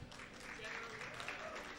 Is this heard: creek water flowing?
no